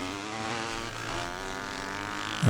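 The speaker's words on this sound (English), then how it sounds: "he comes across the line on his 400 Husqvarna machine" A 400cc Husqvarna classic dirt bike racing past the finish line at a Lockerbie classic race, its engine a loud, steady buzzing drone close by that swells sharply at the very end.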